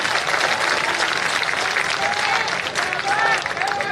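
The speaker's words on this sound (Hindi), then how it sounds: "अब महिलाओं को ताली भरी दिखती है मुझे" An audience of women applauds at a Dr. Ambedkar Jayanti event, a dense continuous clatter of many hands clapping close and loud throughout, with a few faint voices mixed into the crowd.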